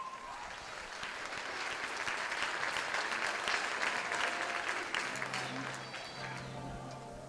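An audience at a benefit concert applauds student jazz musicians, steady sustained clapping that swells in the middle and then eases, with a low hum entering near the end.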